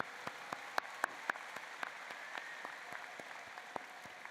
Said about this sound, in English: Let's give one more round of applause to all of this year's award recipients.